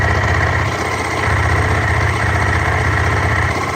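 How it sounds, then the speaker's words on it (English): A Ducati 996 motorcycle engine idles steadily while warming up, a loud, close, continuous low rumble with an even throb and no talk over it. "Leave that on for a minute or so, get some temperature into the engine"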